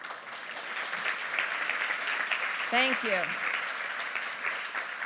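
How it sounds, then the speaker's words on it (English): Audience applause at a tech conference talk on database testing with Docker, a steady broad clatter of clapping throughout, with a brief spoken voice over it near the middle. "Big round of applause for Julie."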